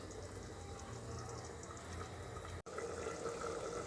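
Rice water for plain kuska biryani boils in an open pressure cooker, giving a faint, steady bubbling hiss that runs throughout with one momentary break.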